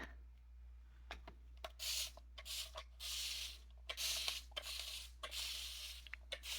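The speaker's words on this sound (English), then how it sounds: "spray down my palette" Short spritzes from a spray bottle mist water over an acrylic paint palette, several quick bursts of hiss in an irregular rhythm, close and fairly quiet, with faint handling noises between them.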